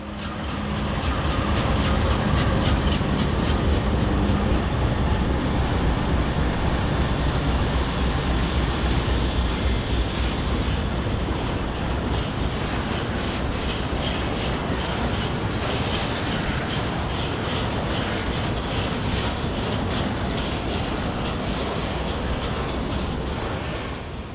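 An NS intermodal train bound for Los Angeles on Union Pacific rails thunders past in Birmingham, Alabama, a long, loud, steady roar of wheels with rhythmic clacking over rail joints.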